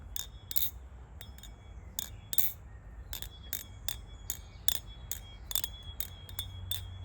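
An Armed Shark Madko balisong, loose and freshly tuned, flipped in quick bursts of bright metallic clinks and ringing chatters, many sharp strikes repeating irregularly and close up against a quiet low hum.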